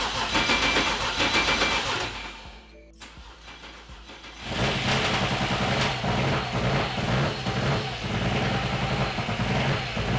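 A BMW N54 engine in an E90 cranks and runs roughly, then cuts out briefly before firing again into a loud, uneven idle after a crank hub installation.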